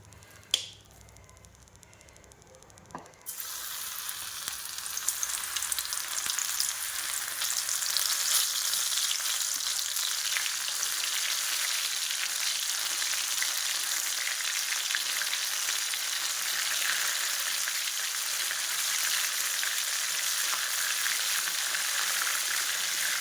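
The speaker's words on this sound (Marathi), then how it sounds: "तर आता आपण हे सोया चंक्स तळून घेणार आहोत." Soya chunks deep-frying in a kadhai of hot oil, a loud, steady crackling sizzle that erupts after a quiet start and continues unbroken, close and dense throughout.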